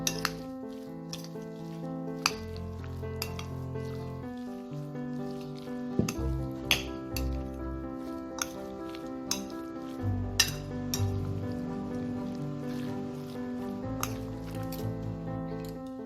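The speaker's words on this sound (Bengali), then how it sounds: "এটাতে আমার আর মেয়োনিজের দরকার নেই, আমি এটাকে সুন্দর করে মিশিয়ে নিয়েছি।" Chicken is stirred together with mayonnaise in a bowl for a sandwich filling, giving soft squishy scrapes and light utensil clinks against the bowl over a faint steady musical background.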